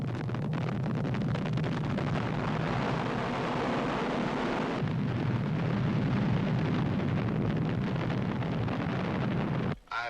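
A missile launches in the film Damnation Alley: a loud, steady, rushing roar that fills the whole stretch and holds level, then briefly cuts out near the end.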